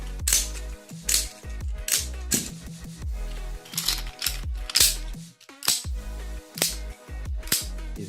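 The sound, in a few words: clacking of a Black Velvet balisong trainer being flipped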